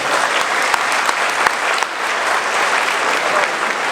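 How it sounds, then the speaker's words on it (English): A large audience at an evening fundraising dinner gives the panelists a loud, sustained round of applause, steady and unbroken throughout with no talk above it. "A big round of applause to all the panelists"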